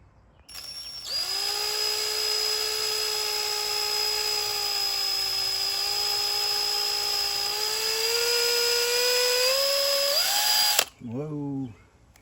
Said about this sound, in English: I'm gonna mix this up with my drill.